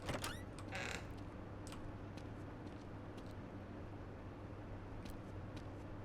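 A faint, drawn-out creak from a horror video game, a brief sharp creaking sweep at the start followed by quiet mechanical ticks and low hum, with no voices.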